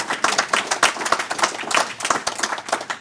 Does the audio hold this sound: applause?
yes